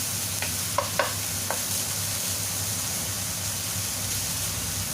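Minced pork sizzles and fries in a pan for eggplant and tofu, a steady broadband hiss with a few brief clinks of a utensil stirring early on.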